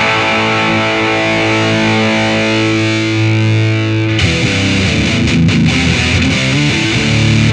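Electric guitar played through a vintage distortion pedal, a sustained saturated chord ringing out before shifting into busier chugging riffs, loud, thick and close with no talking.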